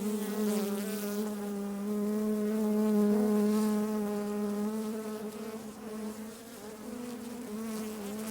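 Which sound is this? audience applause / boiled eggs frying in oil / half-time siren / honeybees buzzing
honeybees buzzing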